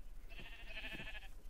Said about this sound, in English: Y'all some naked ass sheep.